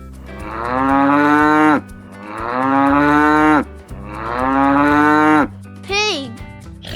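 A cow lets out three long, loud, deep moos in a row, each lasting over a second with short gaps between them, followed by a briefer rising call, all heard close over a quiet musical backing.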